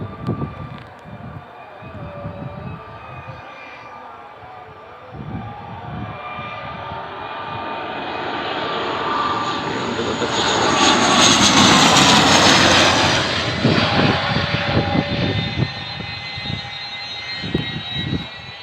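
A passenger aircraft lands at an airbase, its jet roar swelling loud to a peak and then easing off into a lingering rumble.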